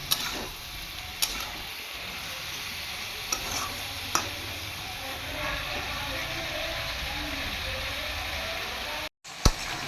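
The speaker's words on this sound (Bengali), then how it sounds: "আগে হলুদ দিয়ে ভালোভাবে এটা কষিয়ে নেবো" Ridge gourd and ash gourd being sautéed with turmeric, with a steady low sizzle and a few sharp spatula clicks against the pan, heard up close with no talking.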